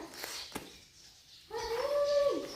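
A dog gives a rising, drawn-out howl with a whimpering edge. It follows a quieter stretch with a few faint clicks and is heard at moderate distance in an outdoor setting.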